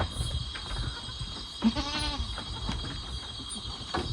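Goat bleating loudly in a farm setting, a single strong wavering bleat mid-clip rising above a steady background of insect chirps and low rustling.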